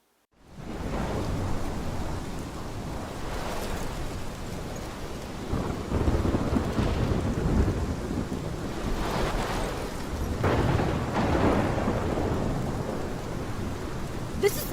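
Heavy rain pours steadily through a video game thunderstorm, with deep rolling thunder swelling in several waves over a constant wash of rainfall, loud and close, no voices.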